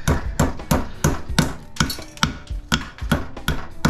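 A hammer taps repeatedly on bolts in metal scrap, roughly three sharp metallic knocks per second in an uneven rhythm, close and loud with no voices.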